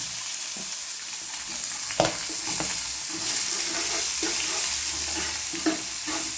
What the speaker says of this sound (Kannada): ಉಳ್ಳಿಗಡ್ಡೆ ಸ್ವಲ್ಪ ಫ್ರೈ ಆಗ್ಬೇಕು ರೀ